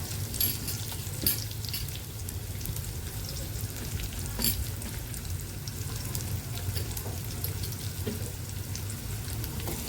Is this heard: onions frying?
yes